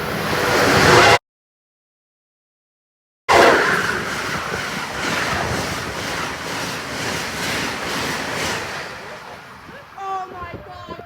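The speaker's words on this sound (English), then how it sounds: "Train approaching." A train roars past at night, loud and close, with a dense rushing rumble and rhythmic clatter after a brief gap, fading toward the end as a voice speaks briefly.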